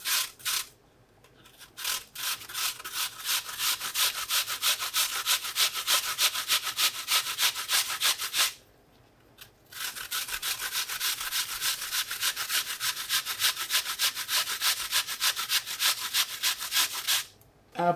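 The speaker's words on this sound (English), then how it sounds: "We're gonna come in and grate our apple into the mixture." An apple is grated by hand into a homemade Japanese curry mixture, the close rasping strokes repeating in a quick, even rhythm, broken by one short pause midway.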